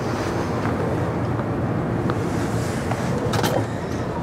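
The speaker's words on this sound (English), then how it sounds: "It's decidedly blowy." Strong wind buffets the microphone outdoors along Ireland's Atlantic coast, a steady loud rushing roar with gusts swelling near the end, no voices.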